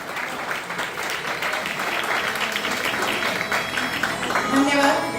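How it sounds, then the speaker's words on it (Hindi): An audience at a Jain poetry gathering in Pune claps together. The applause is a dense, steady patter with a voice running over it, and it swells slightly toward the end. "जोरदार ताली"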